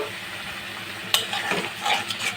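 Spices sauté in a pan for a rui fish curry, a close sizzle with brisk stirring and a sharp metallic clink partway through, short and fairly loud with no voices.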